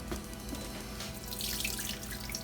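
Tap water runs steadily into a kitchen sink as peeled quail eggs are rinsed, a close continuous splashing hiss with no voices.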